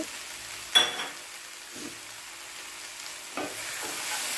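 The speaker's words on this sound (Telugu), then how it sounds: "ఇందులోనే పల్లీలు కూడా వేసి కలపాలి" Peanuts are stirred into okra frying in a pan: a few distinct scrapes and clatters over a faint, quiet sizzle, with no talking.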